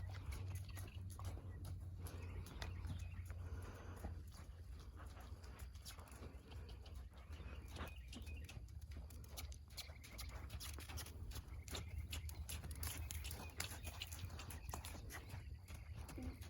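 A young horse's trotting hoofbeats clop in a steady, even rhythm on soft arena ground during long-line training, continuing throughout at moderate distance with a low background rumble.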